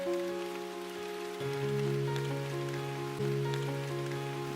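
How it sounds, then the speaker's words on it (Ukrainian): Soft rain patters steadily beneath gentle, sustained musical tones that shift pitch slowly. "Так, це дощ."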